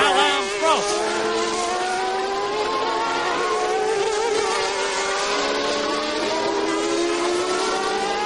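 Formula One race cars scream past on track, high-pitched engines rising and falling in pitch as several cars sweep by, loud and continuous with a broadcast crowd-and-track wash underneath.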